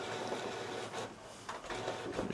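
A Canon PRO-310 photo printer whirs and shuffles softly, with faint mechanical clicks and sliding movements, quiet and close.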